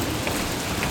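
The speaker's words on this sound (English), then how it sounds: "Here comes the hail." Hail falling during a tornado storm, a dense, steady wash of pellets striking surfaces nearby, loud and continuous with no voices.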